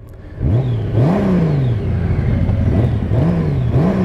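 A 2023 Honda Gold Wing DCT motorcycle engine revs in neutral in short rising bursts, four or five throttle blips close by, each climbing then dropping back to idle.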